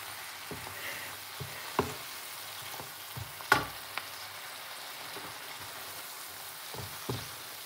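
Garlic frying in a pan gives a faint, steady sizzle, with occasional soft clicks and scrapes of stirring scattered through it. No one speaks.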